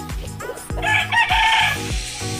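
Asil rooster crowing nearby, a loud drawn-out cock-a-doodle-doo rising and holding before trailing off, with faint background clucks and farmyard ambience.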